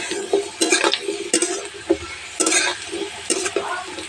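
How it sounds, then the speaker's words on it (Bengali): Potatoes frying in a pan, heard as a steady sizzle broken by repeated scraping and clattering stirring strokes in an irregular rhythm, close and fairly loud. "আলুটা আমার ভালো মতো ভাজা হয়ে গেছে।"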